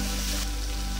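A large batch of sattu posto, about three kilograms of sattu, fries in a pan with a dense, loud and continuous sizzle, close up and steady from start to finish.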